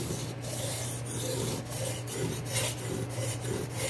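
A knife sharpened on the 1000 grit side of a King whetstone using a DMT aligner guide, giving steady rhythmic rasping strokes, close and clear, with no voices.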